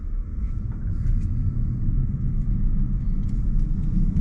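An Alfa Romeo Junior Veloce drives on a track, heard from inside as a steady low engine and road rumble that stays even and close throughout.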